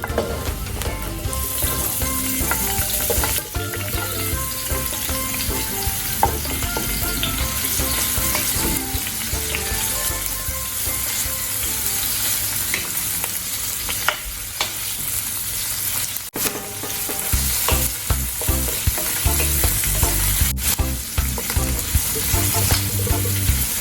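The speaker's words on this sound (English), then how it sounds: "We'll just wait for the oil to heat up. Let's saute the onion." Onion sautéing in hot oil for pork spareribs mechado gives a continuous loud crackling sizzle that holds steady for over twenty seconds, with occasional clicks and stirring knocks.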